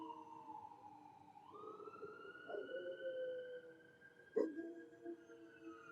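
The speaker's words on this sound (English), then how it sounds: "Oh, that's the fire truck." A fire truck siren wails nearby, its tone sweeping steadily as it passes, with a brief sharp burst partway through and faint dog barking mixed in beneath.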